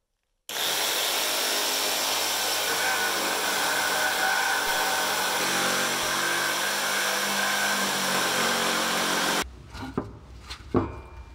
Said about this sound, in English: so I found my old jigsaw to finish up